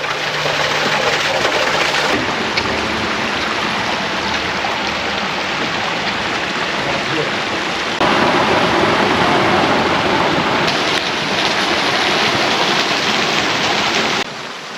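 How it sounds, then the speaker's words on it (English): A small waterfall spills down rocks in Goldstrike Canyon near Lake Mead, Nevada, making a loud, continuous close-up rush of splashing water that holds steady throughout. "the water is like coming down the rocks like this"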